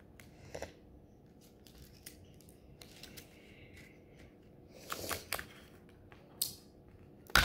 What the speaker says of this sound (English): Ah, the scissors.